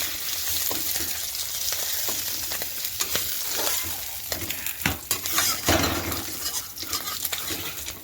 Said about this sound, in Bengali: মাছ ভাজার কড়াইতেই কিন্তু আমি ওলকপি ভাজার জন্য বসিয়ে দিয়েছি।